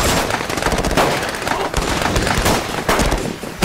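Rapid, dense bursts of gunfire crackle continuously during a police raid on a drug factory in a city, loud and chaotic, with overlapping shots and no pauses throughout.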